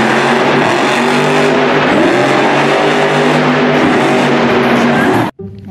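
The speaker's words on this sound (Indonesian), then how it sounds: "Mobil monster, teman-teman." A toy monster truck's engine revs loud and close in a sustained roaring whine with skidding grit, then cuts off abruptly near the end.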